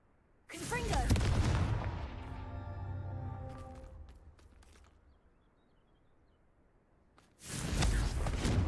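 A Confringo blast spell goes off in the Hogwarts Legacy game, a loud booming burst with a long, ringing tonal tail. It fades over several seconds before another loud noise starts near the end.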